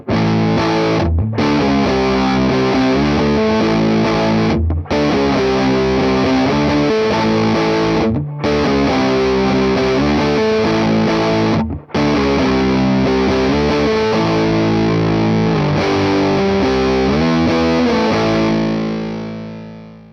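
Japanese-made Les Paul electric guitar through heavy distortion, strumming dense chords and riffs continuously for about twenty seconds with a few brief breaks, loud and up close, ending on a ringing final chord.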